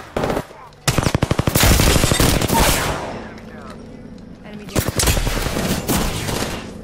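Rapid bursts of automatic gunfire from Apex Legends Wraith gameplay on PS4, loud and close, in two main volleys separated by a stretch of quieter game noise, with talk present.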